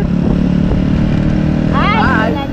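A motorcycle engine drones loudly and steadily throughout, with a brief wavering voice rising over it near the end.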